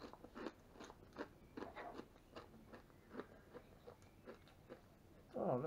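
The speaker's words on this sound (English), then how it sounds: "listen to me crunching on this stuff" Crunching on dry food from a 2017 Russian military mountain ration, a close, quiet series of irregular bites and chews with faint mouth sounds and a louder crunch at the end.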